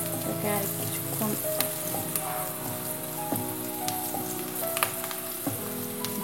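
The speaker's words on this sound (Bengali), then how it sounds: "পেঁয়াজটাকে সামান্য একটু ভাজতে হবে, একদম বেশি না।" Chopped onion with turmeric powder sizzles in hot oil in a kitchen pan for a Bengali bottle gourd dish, a steady crackling fry with occasional stirring scrapes and pops.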